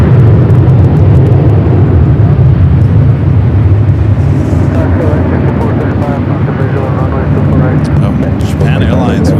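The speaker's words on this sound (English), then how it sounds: "Also have a United at 757 heading up here for north side of takeoff." A United Boeing 757 airliner taxiing for takeoff at LAX, its loud, continuous engine roar and rumble dominating throughout, with a voice talking over it.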